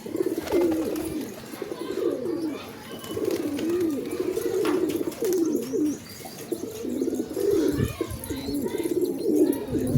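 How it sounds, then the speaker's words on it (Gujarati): A flock of pigeons, some seventy birds gathered where they are fed flatbread, coos steadily and close by, with overlapping throaty calls rising and falling continuously. "તમારા આગળ કેટલા કબૂતર કમેન્ટમાં કહેજો"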